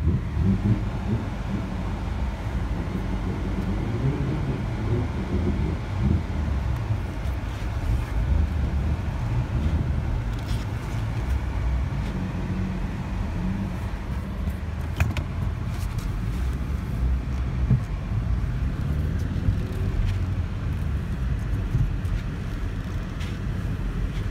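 A BMW with a manual transmission drives along, its engine and road noise a steady, close rumble inside the cabin for the whole stretch, with faint rattles and jingles on top and no talking.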